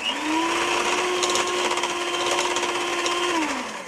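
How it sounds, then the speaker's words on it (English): An electric mixer whisks eggs into choc chip cookie dough, a steady whirring motor hum that holds constant, then winds down at the end, close and fairly loud with no talking. "Now we whisk."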